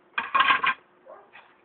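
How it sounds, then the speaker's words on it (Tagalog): Dishes being washed by hand, plates and cutlery clattering and clinking in a couple of quick bursts, close and fairly loud, then softer scraping as the noise dies down. "Ganito ang tamang paghugas ng pinggan."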